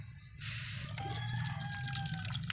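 Water splashes and trickles continuously as it is poured out for aseel hens, a steady close liquid sound that starts abruptly and keeps flowing, with faint background noise.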